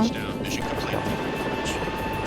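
Search-and-rescue helicopter turbines whine steadily with a high-pitched tone under a rotor drone after landing at base, close and loud, while a person talks over the noise.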